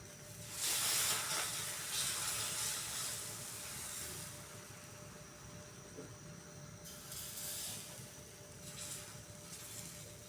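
Rava ghavan batter sizzles on a hot pan over a full gas flame with a little oil. A steady close hiss swells sharply near the start and again later, with no talking.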